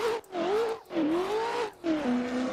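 A sim racing car engine at Irwindale revs up in rising whines, cutting out briefly at each of several gear changes before climbing again into fourth, loud and close with no talk.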